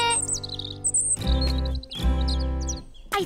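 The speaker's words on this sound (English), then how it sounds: "The first songbird of spring." High, bright chirps and tweets from a songbird in a children's cartoon, a quick series of short calls heard clearly over soft background music.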